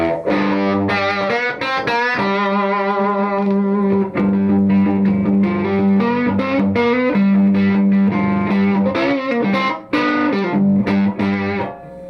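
A distorted electric guitar through a VHT Special 6 Ultra tube amp head with the bass cranked plays chords and riffs with a heavy, bass-rich tone, loud and continuous with no voices.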